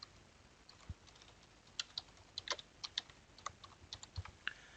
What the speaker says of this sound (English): And then I could type in here what I want to put in there.